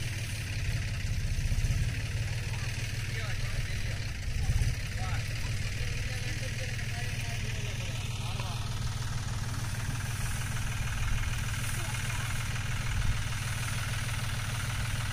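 A tractor engine runs on a farm with a steady, low idling drone and rhythmic throb that continues unchanged throughout, fairly quiet and even.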